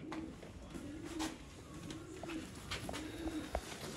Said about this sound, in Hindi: ये है सियालकोटी बटेरे कबूतर